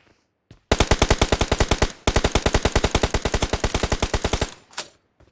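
Rapid automatic gunfire in the mobile battle-royale game PUBG Mobile, two long loud bursts of evenly spaced shots with a brief gap between them, then a single trailing shot.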